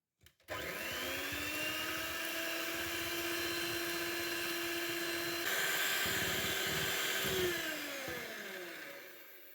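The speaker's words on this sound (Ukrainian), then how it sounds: "Збити міксером в пишну масу." An electric mixer beating eggs and sugar whirs at a steady high pitch for several seconds, then its pitch shifts slightly before winding down, close and loud with no talking.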